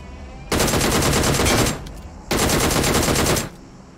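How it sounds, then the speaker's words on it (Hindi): Two long bursts of rapid automatic gunfire from PUBG Mobile, each about a second and a quarter long with a short gap between, loud and close with no talking. "ऐसी फायर आ रही है।"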